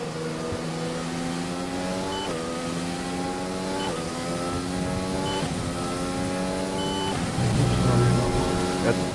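A race car engine in a racing video game holds a steady high rev at the race start, with harmonic tones climbing repeatedly through gear changes, continuous and loud.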